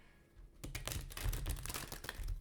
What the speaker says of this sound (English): need to do one more shuffle.